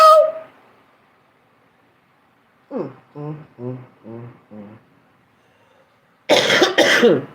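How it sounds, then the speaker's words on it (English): Someone coughs near the mic in short bursts: a brief hack at the start, then a run of five rhythmic voiced hacking coughs, and finally two loud, harsh coughs close together at the end. "Ooh, this cough."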